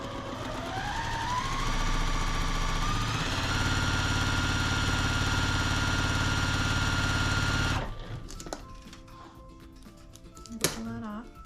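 A sewing machine stitches quilt fabric in a steady, fast motor whir of about eight seconds, then stops, followed by faint handling clicks and small knocks.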